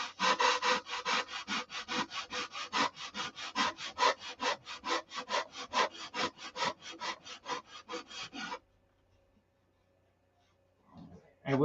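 Steady hand sanding on the rounded leading-edge transition of a wooden model aircraft wing, close and loud: about twenty-five even back-and-forth rasping strokes in a quick regular rhythm, then a short silence before a brief rustle.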